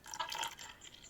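Water being poured into a container, a soft splashing burst that gurgles briefly and then trails off quietly.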